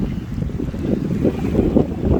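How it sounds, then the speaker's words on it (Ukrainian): Strong, cold wind blows across open water near an empty seaside shore on a rainy, overcast day, a steady low rushing roar buffeting the microphone with gusty swells and no voices. "Вітер в мене вирвав пакет і несе далеко, далеко"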